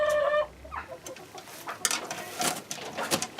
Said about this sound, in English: Are you an escaped barn chicken?